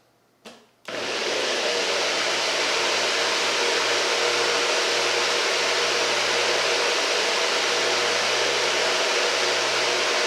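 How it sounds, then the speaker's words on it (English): A short click, then a loud steady whirring motor runs continuously at close range, a blender churning strawberry daiquiri or piña colada ingredients without pause. "now it's time to blend our baby up"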